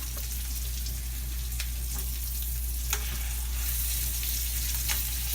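Lamb chops frying in butter in a pan give a steady, dense sizzle with a few soft pops and stirring clicks, close and continuous, and nobody speaks.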